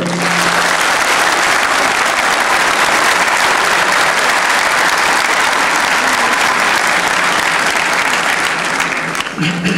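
A lecture audience in a municipal hall bursts into sustained, loud applause, a dense wash of clapping that holds steady for several seconds before tapering off at the end.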